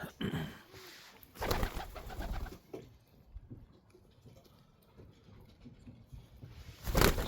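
Pigeons coo softly while eating lettuce outdoors in freezing weather, with low murmuring calls and bursts of fluttering or shuffling near the start and end.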